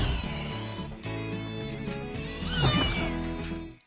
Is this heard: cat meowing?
yes